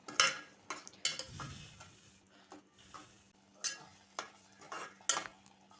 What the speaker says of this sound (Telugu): వీటిని కూడా మరో 2 నిమిషాల పాటు ఇలా కలుపుకుంటూ ఫ్రై చేసుకోవాలి.